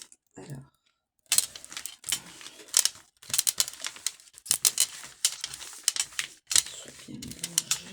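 Grand Etteilla Egyptian tarot cards are shuffled close by in repeated bursts of crisp, clicking riffles separated by short pauses.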